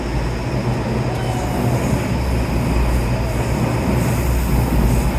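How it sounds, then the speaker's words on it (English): A passing train runs along a seawall, a continuous loud rumble of wheels on rail with broadband roar, steady throughout, no talking. "I can hear a train."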